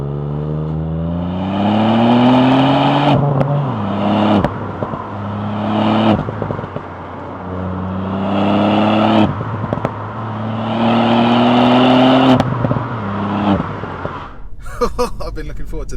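A Stage 1 Mark 8 Ford Fiesta ST with a manual gearbox pulls hard on the road, its engine note climbing through repeated revving sweeps, with sharp breaks at each gear change, loud and close from inside the car.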